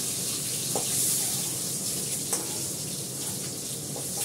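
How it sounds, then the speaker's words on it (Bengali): An egg frying lightly in a pan gives a steady, soft sizzle with faint crackles and a couple of small pops, close and unbroken, with no talk. "হালকা করে ডিমটা ভাজবো।"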